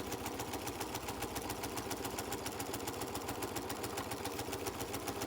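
A sewing machine runs a steady practice stitch in a beginner sewing class, a continuous rhythmic motor whir with fast, even needle clatter and no pauses, close and fairly quiet.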